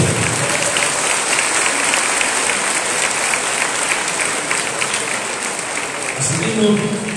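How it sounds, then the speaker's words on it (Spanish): Warm, sustained applause from an audience at a municipal president's swearing-in ceremony in Tepeojuma, filling the room steadily and loudly throughout, with a voice briefly rising near the end. "te voy a dar el fuerte caluroso aplauso"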